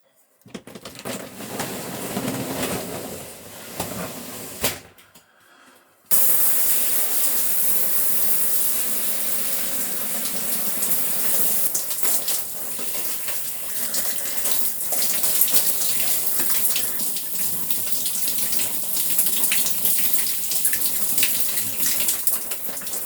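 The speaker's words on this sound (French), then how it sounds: "Oh, il pleut fort." Heavy rain pours down outdoors in the mountains in cold weather, a loud, steady broadband hiss after a brief quieter opening, continuing densely and evenly to the end with no voices.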